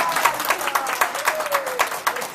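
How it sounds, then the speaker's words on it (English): An audience at a Toastmasters meeting claps for several seconds, moderately loud, with a faint tonal whistle or voice gliding underneath. "Another round of applause for the Toastmasters."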